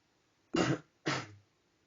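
Two short, dry coughs or throat-clearing bursts, about half a second apart, close and fairly quiet, with silence around them.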